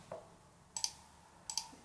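Computer mouse clicks while working in Logos Bible Software, a faint single click followed by two quick pairs of sharp close clicks in a quiet room.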